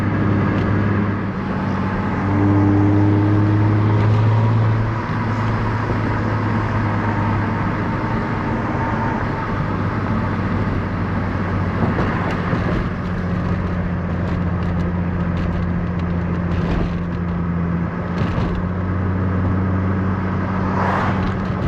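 A Chrysler Crossfire SRT-6 drives with its engine droning steadily and loudly throughout, rising in pitch as the throttle is pressed hard and the car pulls away, heard up close from inside the car with no talk.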